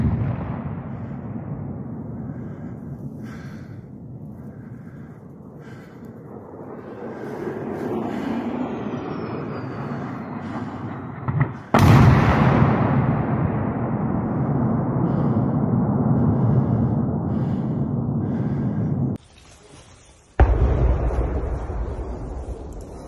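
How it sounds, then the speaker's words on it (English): 500-kilogram bombs and missiles explode around woods at night: a steady windy rumble builds, then two sudden loud blasts break through, each followed by a heavy roaring wash of sound. "what it's like hiding in the woods at night while 500 kilogram bombs and missiles drop all around"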